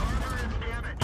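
A tank cannon fires in World of Tanks, a heavy booming shot and rumble under battle noise, with a second sharp blast at the very end.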